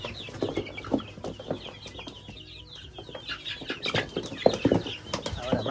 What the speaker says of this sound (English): Now that is a box of chicken.